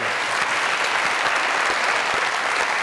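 A studio audience at a comedy talk show applauds a guest in steady, dense, even clapping that fills the whole moment.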